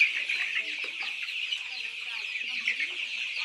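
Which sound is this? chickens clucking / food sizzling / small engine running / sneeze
chickens clucking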